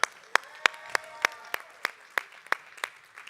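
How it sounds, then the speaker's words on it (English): An audience claps for Hannah with sharp, evenly spaced claps at a steady rhythm, close and fairly loud over a light crowd murmur. "let's give it up one more time for Hannah"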